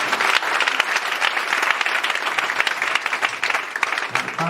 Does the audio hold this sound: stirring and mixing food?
no